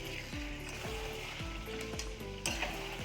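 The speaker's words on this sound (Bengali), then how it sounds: "তার মধ্যে দিয়ে দেব মাংস, ভেজে রাখা মাংসটা। এবারে সেটাকে ভালো করে আবার কষিয়ে নেব।" Chicken pieces fry in spiced masala in a pan for a Bengali chicken curry, giving a steady close sizzle. Rhythmic stirring strokes scrape through it roughly twice a second.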